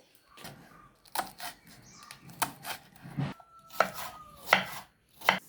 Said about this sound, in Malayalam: അതിലേക്ക് ഞാൻ ഉള്ളി, ഇഞ്ചി, പച്ചമുളക് അരിഞ്ഞെടുക്കണം